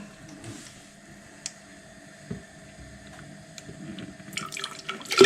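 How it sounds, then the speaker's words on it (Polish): Cold running water from a tap pours into a container, growing louder and splashier toward the end, with a few faint clinks along the way. "Uzupełniamy zimną wodą."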